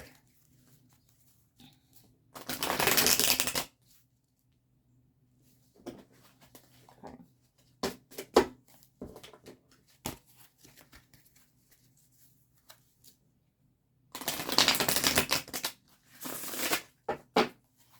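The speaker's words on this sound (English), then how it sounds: "Let's shuffle this one really quick." Two bursts of crisp riffling as a deck of tarot cards is shuffled, each about a second long, with quiet handling taps and shuffles between.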